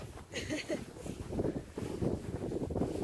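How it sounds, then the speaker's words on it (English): Wind gusts across a frozen lake at Pictured Rocks in winter, buffeting the microphone with uneven low rumbling blasts, mixed with faint crunching footsteps on rough ice. "Oh, the wind is blowing."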